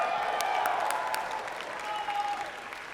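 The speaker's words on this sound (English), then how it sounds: "Another round of applause for Max." An audience at a university winter commencement ceremony gives a steady round of applause, a full, continuous wash of clapping with a few louder claps standing out and faint crowd voices beneath.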